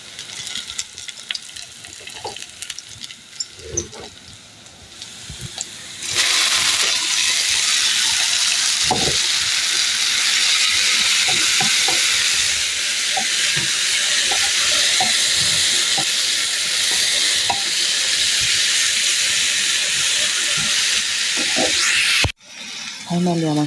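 Greens tempered in hot oil, seasoned only with turmeric, green chilli and salt, burst into a loud steady sizzle that runs on continuously with scattered stirring clinks before cutting off abruptly near the end.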